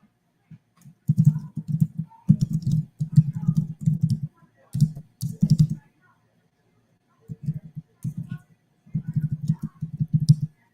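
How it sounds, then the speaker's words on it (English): Quick bursts of clicking keystrokes on a computer keyboard, close and fairly loud, with short pauses between flurries. "There's some typing going on."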